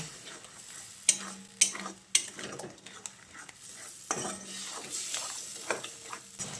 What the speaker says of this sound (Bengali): এবার আরও খানিকক্ষণ ভালো করে কষিয়ে নেব।